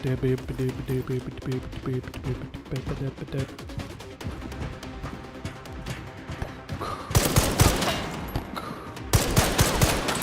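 Gunfire aimed at the player in the video game Resident Evil Requiem crackles faintly beneath ongoing talk, then erupts into loud, dense automatic bursts near the end.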